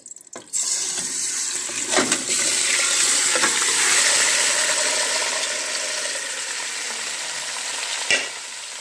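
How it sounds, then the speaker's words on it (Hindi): Marinated mutton pieces for Peshawari namkeen gosht are dropped into hot oil and break into a loud, steady sizzle that holds for several seconds, with a few clanks and stirring noises over it. "ऑयल हमारा गर्म हो चुका है, अब हम इसमें गोश्त डालेंगे।"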